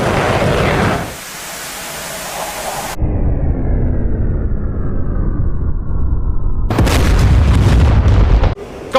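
Missiles strike in a combat flight video game, with heavy booming blasts and roaring noise up close, a quieter stretch with a whining tone between them, then another loud burst near the end.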